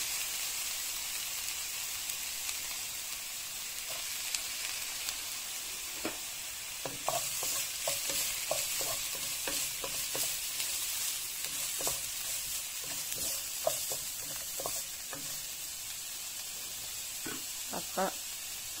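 Carrots frying in a pan for a bolognese sauce, a soft steady sizzle with irregular clacks and scrapes of stirring that become busier after the first few seconds.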